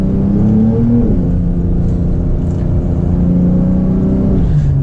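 A 2021 Porsche 992 Turbo with PDK gearbox accelerates hard in Sport Plus mode, its loud engine drone rising in pitch and dropping sharply at an upshift before climbing again, close and steady.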